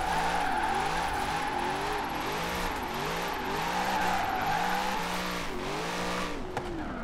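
A Chevrolet C8 Corvette in Forza Horizon 4 accelerates hard in third gear on an uphill run, its engine roaring loud and steady with rising, wavering revs and tire squeal, close and continuous.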